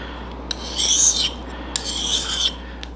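A mushroom knife blade is sharpened in two close, loud rasping strokes across a stone, each about a second long, with short clicks between them and no speech.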